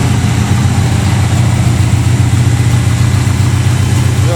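A 1971 AMC Gremlin with a big-block 496 engine, tunnel ram and carburetors idles with a steady, loud low rumble throughout, still warming up, no voices.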